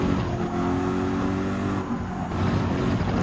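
A BMW race car engine in Gran Turismo 7 drones loud and steady throughout, a sustained, close mechanical roar with slight pitch shifts as the car overtakes.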